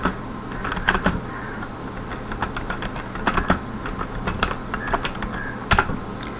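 Code being typed on a computer keyboard: irregular bursts of crisp key clicks with short pauses between words, close and clear, over a faint steady room hum.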